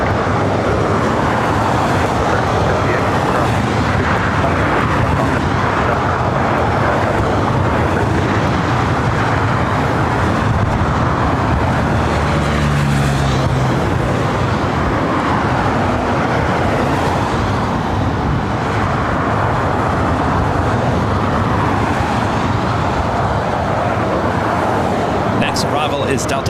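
A Delta Airlines A320 jet arriving at LAX airport gives a loud, continuous broadband roar that holds steady the whole time, with a voice talking over it.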